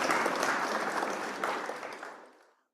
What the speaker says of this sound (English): give Quỳnh Anh a clap, a big clap one